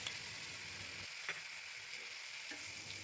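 Garlic paste and chopped onion fry in a pan with a steady, close hiss, broken by a sharp stir click and one brief lull in the sizzle before the frying returns.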